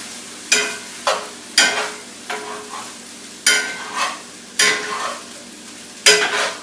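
A spoon scrapes through food in a hot cast iron pan on an electric stove, with about eight distinct close stirring strokes over a low, steady sizzle.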